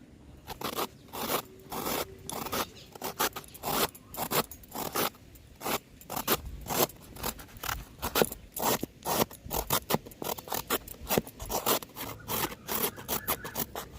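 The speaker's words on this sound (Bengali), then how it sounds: "এদিকে গাজর আছে গাজরটাকে কিন্তু ঘষে নেব" A carrot is rubbed against a grater in quick, rhythmic rasping strokes, a close, dry scraping that repeats continuously for about fourteen seconds.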